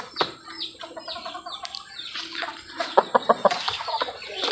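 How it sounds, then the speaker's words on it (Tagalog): A broad-bodied derby-size rooster clucking nearby in a series of short, rising clucks, ending in a quick run of sharp, rhythmic notes, with faint background noise. "Napakalapad na manok."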